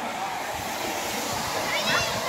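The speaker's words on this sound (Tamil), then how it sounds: "தண்ணி அப்படியே மேலால வந்து இது கீழே தான் போகுது" Rushing waterfall in the middle of a Sri Lankan tea estate, a steady broadband roar of falling water that runs unbroken throughout, with a person talking over it.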